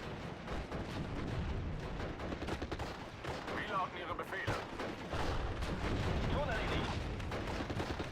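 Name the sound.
gunfire from the video game Steel Division: Normandy 44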